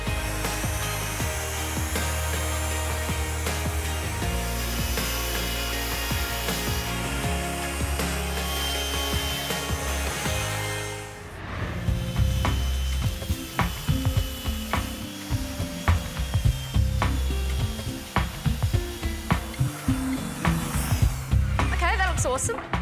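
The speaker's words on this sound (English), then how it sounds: "I'm using a pretty big belt sander" Large belt sander working on pallet timber, a loud continuous motor whine with grinding texture for the first half, then cutting to rougher, more broken grinding and knocking sounds.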